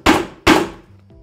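Two sharp, loud hammer blows drive a 9 mm hole punch for shoemaking, struck about half a second apart, each ringing briefly before a quieter tail.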